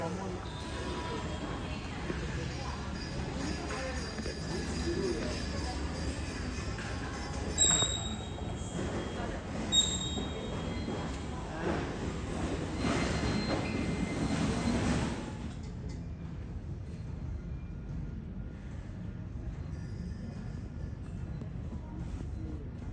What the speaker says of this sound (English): we took the air train from the satellite terminal back to the main terminal